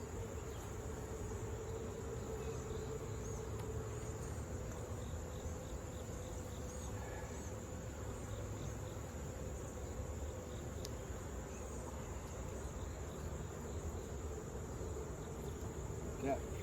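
Honeybees hum around a mating nuc being set up for a virgin queen, a faint, steady buzz that holds at low level throughout with no clear voices.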